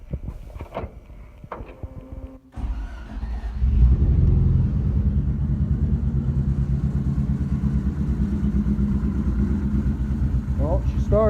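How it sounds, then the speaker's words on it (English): An engine cranks and catches, then settles into a steady, very low idle rumble that continues loud and close; someone talks briefly over the start. "Well, she started. She's got a real low idle."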